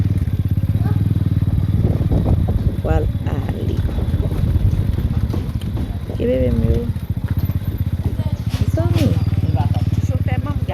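A motorcycle ride with a steady engine drone and wind rumble running throughout, while someone talks continuously over it.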